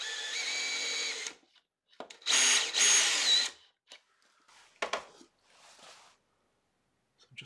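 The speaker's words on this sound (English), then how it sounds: "So I have just seen a cordless drill. So I'm just going to take this down just nice and slowly." A cordless drill spins a barrel trimmer against a pen blank cut from an old bullet casing, in bursts: a steady whine, then two louder grinding runs, followed by short intermittent buzzes and scrapes near the mic.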